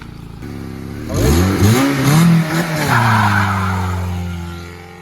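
An off-road Honda Civic reverses with a loud engine note that rises and revs, harmonics climbing and falling with a brief tire-skid texture; no talking.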